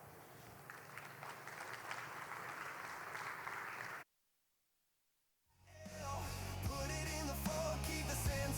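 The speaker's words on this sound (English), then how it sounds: "Big round of applause." A conference audience at an Ethereum event claps in a dense, steady wash of applause for about four seconds, then falls silent before music comes in.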